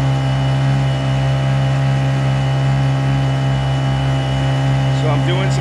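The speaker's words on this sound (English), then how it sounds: "So I'm doing some tight turns here. The prop, you can hear the torque of the motor." A Honda 50cc outboard motor pushes a kayak through tight turns, its steady mid-pitched engine drone running continuously and close without obvious revving, with a faint brief squeak near the end.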